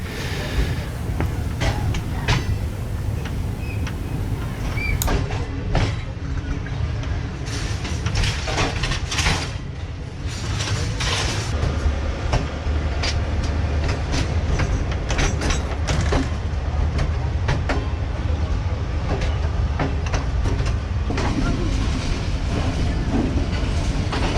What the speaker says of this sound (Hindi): प्लेटफॉर्म नंबर 2 पे महर एक्सप्रेस खड़ी है